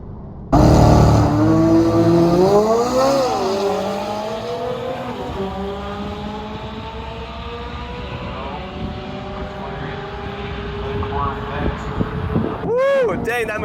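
A C8 Corvette Z06 and a McLaren 570S launch in a drag race, heard from inside a car. The engine roars hard and climbs through repeated rising revs, then eases to a steadier drone, with voices over it.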